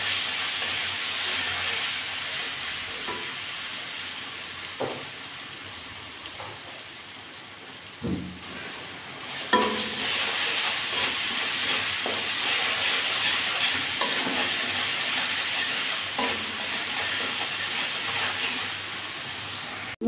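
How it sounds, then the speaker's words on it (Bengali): Crushed garlic sizzling in hot oil in a pan for a green amaranth stir-fry, a steady close hiss and crackle running throughout with occasional sharper pops and stirring clatter, no voices. "রসুনটা একটু লাল করে ভেজে নেব।"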